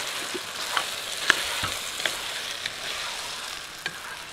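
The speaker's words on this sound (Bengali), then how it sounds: "আপনি কি নাড়াচাড়া করতে চান?" Food frying in a pan sizzles steadily while being stirred, with faint scraping and occasional light clicks of the utensil against the pan, close and continuous with no talking.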